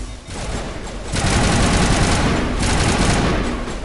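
Dense, loud gunfire from the video game Mass Effect roars almost continuously, surging after a brief dip near the start and holding steady to the end.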